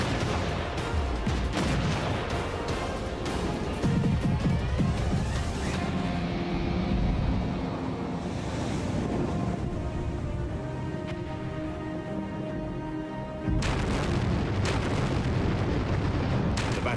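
Naval guns of the battleship USS Texas firing during the Normandy beach landings: a dense, continuous barrage of deep booms and rumbling blasts, loud and sustained, with a brief lull before another heavy burst.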